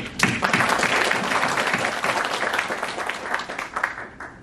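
Audience applause at a Korean security forum panel discussion, a steady dense wash of clapping from a seated crowd that stays fairly even throughout and tapers slightly near the end.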